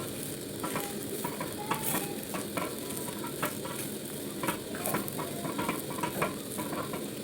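Semolina (suji) cooking in a pan and starting to stick to the bottom, stirred with a steady rhythm of scraping strokes over a constant sizzling hiss, close and moderately loud with no talking.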